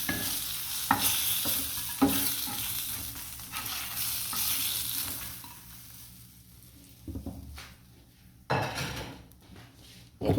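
Fried rui fish being stirred and turned in hot oil, a steady sizzle broken by sharp scrapes and clinks of a utensil against the pan, close and fairly loud, with no talking.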